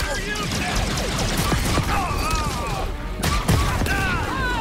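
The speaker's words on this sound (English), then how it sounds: "Grenade launcher." Grenade launcher fire in the Star Wars Outlaws video game, dense bursts and booms amid constant loud combat noise, with a voice talking over it.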